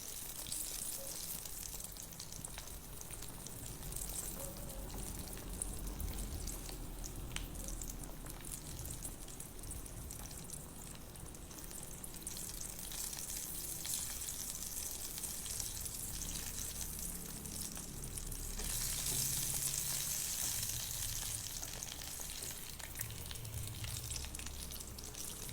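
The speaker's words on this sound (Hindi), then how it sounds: "आप देख सकते हो कितनी अच्छी तरह हमारी टिक्की फ्राई हो रही है।" Tikki patties frying in oil give a steady, soft sizzle and faint crackle throughout, low in level with no talk over it.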